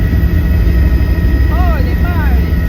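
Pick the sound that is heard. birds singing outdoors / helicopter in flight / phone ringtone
helicopter in flight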